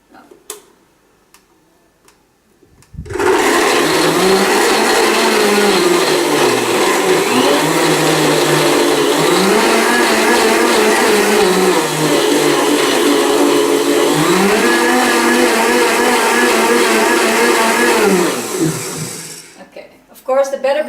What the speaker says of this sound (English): I'm going to put on a blender. I'm going to make a bit of noise.